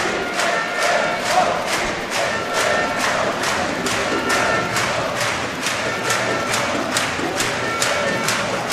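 A large crowd at the FUTNET World Championships triples final, cheering and chanting loudly with rhythmic repeated claps or stamps in a steady beat, sustained throughout without speech.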